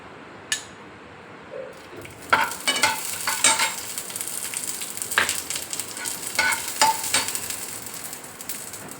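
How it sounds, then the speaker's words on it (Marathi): Ginger and garlic fry in a pan with a close, steady sizzle, punctuated by repeated metallic scrapes and clinks of a spatula stirring. "टाकून घेऊ आपण अद्रक लसूण हे छान भाजून घेऊ आपण"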